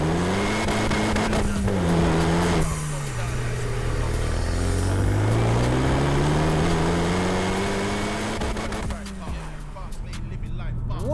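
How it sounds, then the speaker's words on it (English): Renaultsport Megane Cup 250 driving on a road, its engine note rising and falling through gear changes over steady road and wind roar, heard from inside the car with a voice talking over it. "Today we are going for a POV drive in a Renaultsport Megane Cup 250."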